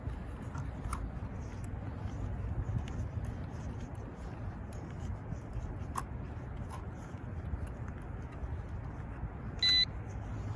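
A JJRC X17 drone gives a short electronic beep near the end, heard over a steady low hum, with no talking.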